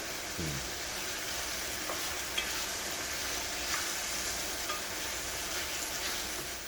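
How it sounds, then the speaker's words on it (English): Seasoning frying in a pot for a callaloo dish, a soft steady sizzle with occasional scrapes and taps of a spoon stirring, fairly quiet and continuous. "Fry up the seasoning, right?"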